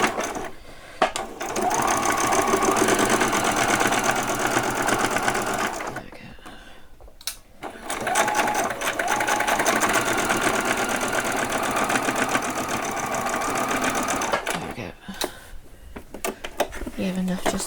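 A sewing machine runs in fast, even bursts while stitching doll-sized jeans, a loud rapid mechanical whir and clatter broken by short pauses, with a person speaking in between.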